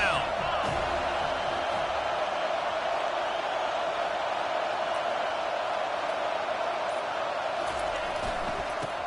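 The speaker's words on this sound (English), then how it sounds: "Decibels rising as the crowd gets behind this defense on third down." Stadium crowd roar in the NCAA 25 college football video game on third down, a dense, steady wash of cheering that stays loud and constant throughout, with a commentator's voice faintly beneath it.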